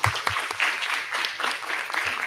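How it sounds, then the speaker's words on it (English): Audience applause for a speaker named John at an IETF 106 GAIA meeting session, a short burst of clapping from a small room that fades quickly, with some talk mixed in. "Let's give John a round of applause"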